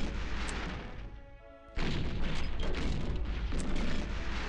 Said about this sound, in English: a bit of a strike from the artillery might help